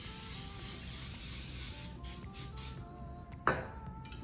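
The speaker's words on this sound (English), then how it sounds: "I'm just going to give this a shake and spray the whole thing" Cooking spray hisses steadily from a can into a baking pan for brownies, a continuous close spray that cuts off briefly before a short sharp final burst.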